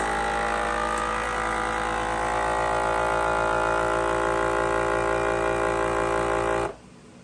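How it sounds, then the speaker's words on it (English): A FoodSaver vacuum sealer running on a bag of ham, a loud, steady motor drone with a buzzing hum held for over six seconds, then stopping abruptly into near silence. "Put it in my food saver here. Vacuum and seal."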